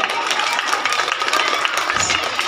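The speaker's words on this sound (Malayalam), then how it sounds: "ഒന്ന് കൈയടിക്കാൻ നിങ്ങൾക്കാണ്" Dense applause from a school Christmas celebration audience, a steady wash of clapping heard throughout with crowd noise mixed in.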